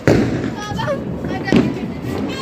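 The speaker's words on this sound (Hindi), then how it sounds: "बिजी है आतिशबाजी में" Diwali fireworks and firecrackers burst loudly close by, two sharp cracking bangs with crackling tails, while people talk in the background.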